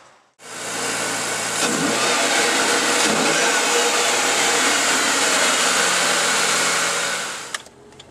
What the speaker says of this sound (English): we're just taking Mick's car for a test drive now